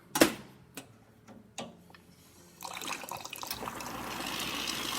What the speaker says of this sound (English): Now the steamer, as you can see, steaming out properly, perfectly, no leaks or anything, and hot water.